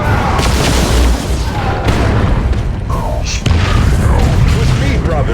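A grenade explodes amid combat in Warhammer 40,000: Dawn of War II, with several dull booms and bursts of battle noise scattered across a dense, loud soundscape.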